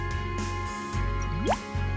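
A small splash of water poured onto seeds just pressed into soil in a flower pot, heard as close, soft drips and trickles with no talking.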